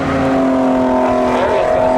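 Camaro race cars circling the Seekonk Speedway track during spectator drags, a loud sustained engine roar with steady tonal drone and slight pitch shifts as they go around.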